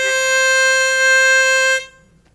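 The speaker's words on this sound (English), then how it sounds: "my tongue is blocking the holes, the 1, 2, and 3 hole, leaving a little space there for hole number 4" A single harmonica note on hole 4, played with the tongue blocking holes 1 to 3, rings as a steady bright reedy tone for nearly two seconds and then stops cleanly, with no voices.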